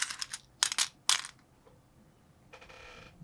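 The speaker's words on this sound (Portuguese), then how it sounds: "Chuva de conchas." Seashells tumbling and clattering down in several quick bursts, each a bright rattling cascade, followed by a softer, steadier rattle near the end; no voices.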